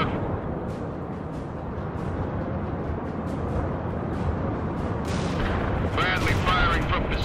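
A Bradley armored vehicle fires in World in Conflict, a steady din of booming cannon and gunfire shots layered under constant battle noise, with a voice speaking throughout.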